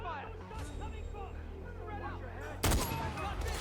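Rifle gunfire in the video game Far Cry 4, a loud burst of shots near the end over steady background game noise and someone talking throughout.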